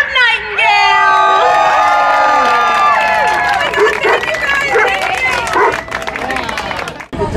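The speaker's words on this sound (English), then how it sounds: "give these girls a round of applause!" A crowd at a hot rod and dog car show cheers for the pinup contest winners, with loud whoops, shouts and applause swelling at once, then thinning into scattered cheers and voices, and a dog barking amid the noise.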